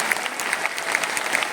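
An audience at a training session in Delhi claps loudly and quickly in time with music, a brief, dense burst of clapping with no talk over it.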